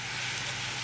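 Chopped onions hiss and sizzle in hot ghee in a pan, a brief, steady frying crackle heard alone at close range.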